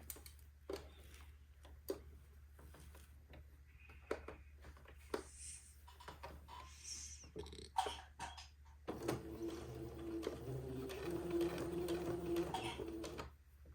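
A sewing machine runs a straight stitch joining an entredot ladder trim to the armhole of a dress, faint and close, with scattered taps early on and a steadier whirring hum in the later part.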